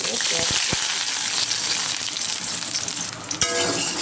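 Hot oil sizzles steadily in a kadai while pasta ingredients fry, a continuous crackling hiss with a couple of brief metallic clinks.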